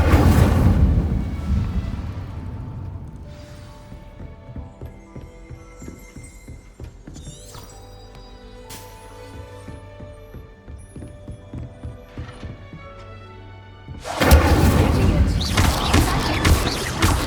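The Incendio fire spell is cast in Hogwarts Legacy: a loud roaring whoosh opens, quieter tonal game sounds and score follow, then a second loud fiery burst flares near the end.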